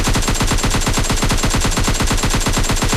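Automatic gunfire from a PUBG Mobile Lite match rattles in a loud, rapid, evenly spaced stream of shots that runs for the full length without a pause.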